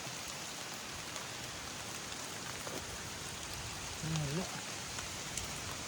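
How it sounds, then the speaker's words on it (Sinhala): Heavy rain pattering on a surface throughout, a dense continuous hiss with a brief low voice-like sound near the end, on a waterfall trail near Meemure. "වැස්සකුත් ආවා"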